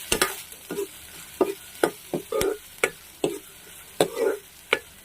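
Onions fry in hot oil in a pan while a spoon stirs them, a soft sizzle broken by a steady series of sharp scraping clicks and short bursts, close and fairly loud, with no talking.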